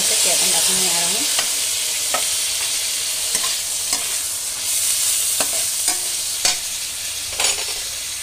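Onions fry in a pan with asafoetida and chopped tomatoes, giving a loud, continuous sizzle. A spoon stirs and scrapes against the pan in repeated sharp clicks, and no one talks.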